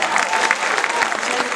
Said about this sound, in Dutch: Oké, applaus.